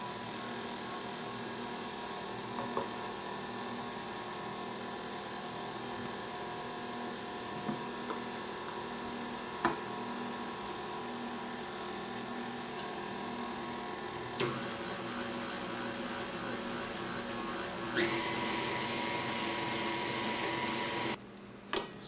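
Electric mixer whirring steadily on low through cream cheese frosting, a continuous motor hum with a few faint clicks and a brief scrape near the end, no talking.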